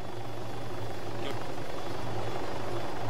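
A police helicopter flies in the military game Arma 3, its rotor and engine giving a steady, loud, continuous drone that holds evenly for the whole stretch.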